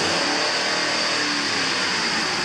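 A Ford 5.4-litre 3-valve V8 revs in neutral, holding a loud, steady high-rpm roar near the rev limiter for the whole stretch, close by with no voices.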